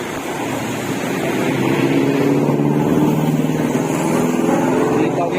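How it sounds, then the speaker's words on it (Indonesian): An HS Bungsu city bus, Setia Negara route to Jembatan 5, maneuvering to park at a junction: a loud, close, steady diesel engine drone with a slight rise in revs, a voice faintly in the background. "akhirnya HS Bungsu bersiap parkir cantik"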